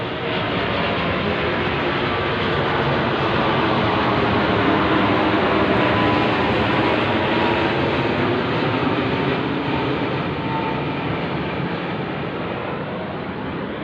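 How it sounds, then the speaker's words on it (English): A patrol aircraft passes directly overhead in the early morning, a loud, steady broadband roar that swells gently and holds for about fourteen seconds with no talking. "what do I have but a patrol plane over my head, right over my head"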